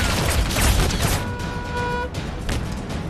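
A war-film scene in The Balkan Line with loud, dense gunfire, overlapping shots and blasts packed together, then a brief tonal hum before the firing continues.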